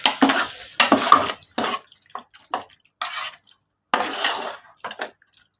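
Curd being stirred into a chicken biryani mixture in a pot, heard as wet, sloppy scraping bursts in an uneven rhythm with short pauses between strokes, close and clear with no talking.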